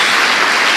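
A church congregation claps in praise during a sermon, a brief, loud, dense burst of many hands with an even texture throughout.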